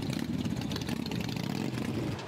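Motorcycle engines of bikers gathered in Côte d'Ivoire rumble steadily, a dense low idling drone with slight revving swells running throughout.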